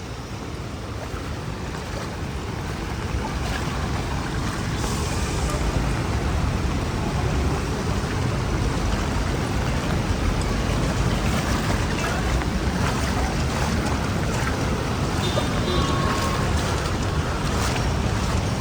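Floodwater on a flooded España Boulevard street in Manila during rain at night, churning and splashing steadily as vehicles push through, a continuous loud wash with a low rumble throughout and no speech.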